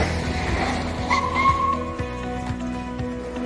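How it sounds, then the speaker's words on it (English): A car's tires squeal as it brakes suddenly, a rising screech over a low engine rumble, then a few dull thumps as the vehicle settles, moderately close. "The use of brakes suddenly without reason."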